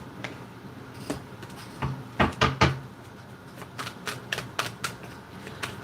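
Word cards being drawn from a tarot-style deck: a series of close card slaps and taps with a brief cluster of sharp hits, then lighter scattered clicks, no talking.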